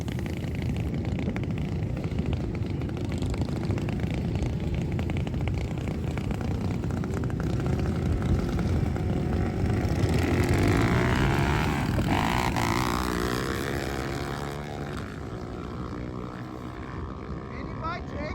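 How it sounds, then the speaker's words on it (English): Small 140 mini bike racing down a track at a fall Mini Mayhem event, its engine a steady, loud drone that swells and shifts in pitch as it passes, then eases off near the end. "Mini bike takes off."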